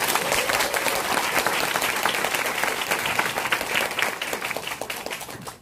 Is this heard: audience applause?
yes